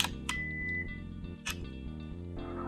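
A camera shutter fires twice during a slower 1/4-second exposure of a leaf against a background, nature photography at home: two crisp separate clicks about a second apart over steady background music.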